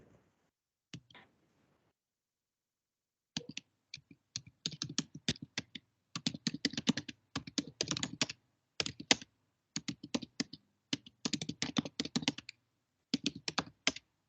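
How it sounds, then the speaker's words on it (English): Bursts of computer keyboard typing during an online meeting, near and fairly quiet, clicking in irregular clusters and pauses over most of the span with no talk. "I'm hearing somebody typing."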